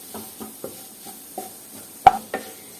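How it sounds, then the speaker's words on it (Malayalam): Masala sautéing in oil on a low flame for a prawn masala: soft, spaced spatula scrapes and taps in a quiet pan, with one sharper knock near the end. "ലോ ഫ്ലെയിമിൽ ഈ മസാലകളൊക്കെ നന്നായിട്ട് ഒരു 5 മിനിറ്റ് നന്നായിട്ട് വഴറ്റിയെടുക്കാം."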